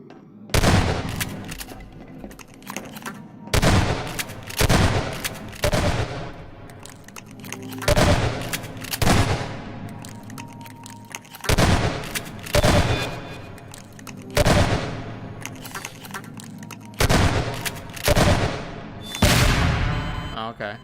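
Explosions go off in a custom map for a first-person shooter game: loud, booming blasts land roughly every two to three seconds, each one followed by a ringing, decaying tail.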